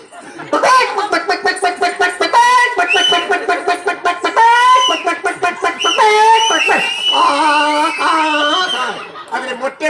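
A mimic's voice imitates a country hen clucking and cackling after laying an egg, in quick repeated bursts, loud and close, with rising and falling squawks.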